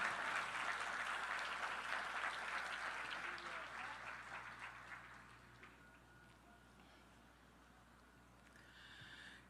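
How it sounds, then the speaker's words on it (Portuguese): A church congregation applauding, sustained clapping that fills the room and then tapers off over several seconds into quieter murmuring, with no talking over it. "Você consegue aplaudir ao Senhor pela sua palavra agora?"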